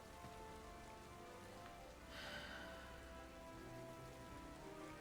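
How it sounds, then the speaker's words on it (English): Rain in the video game Pokemon Sword falls as a steady, soft hiss of drops with a faint swell partway through, and no speech over it. "It's just raining."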